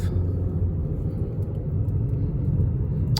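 A 2014 Dodge Avenger at about 97,000 miles is heard from inside the cabin on a test drive, with a steady, loud low engine and road rumble that holds evenly throughout, without talk.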